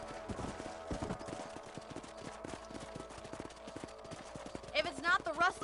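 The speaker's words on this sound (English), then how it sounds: "Let's get back on the horse and see what else is going on." Rhythmic hoofbeats of a galloping horse in Red Dead Redemption, steady under continuous background music and effects, with a few brighter tonal sounds near the end.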